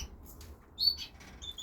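Canaries chirp in an unheated birdroom: a few short, high, thin tweets at moderate distance over a low hum.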